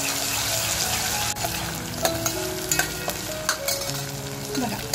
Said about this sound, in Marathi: अद्रक, लसूण, कोथिंबीर, मिरचीचा हा जो ठेचा बनवलाय तो अगोदर तेलात टाकते